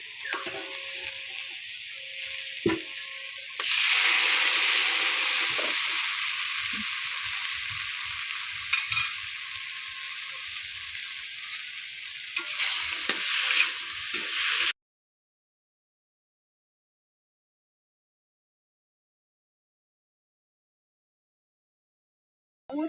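Salted hilsa fish curry with stalks, sautéed in a pan with a little water, giving a steady, fairly loud stirring sizzle with scraping clatters for about fifteen seconds, then sudden silence.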